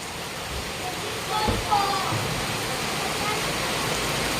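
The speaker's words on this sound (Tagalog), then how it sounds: "sobrang ulan po dito" Heavy rain falling outside a house in a steady, dense wash of noise that stays even throughout, with a brief louder burst near the middle.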